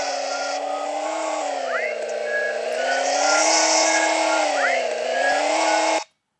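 A car engine in the Roblox video game drones loudly and steadily, its pitch wavering up and down with a whiny, synthetic tone that cuts off abruptly at the end.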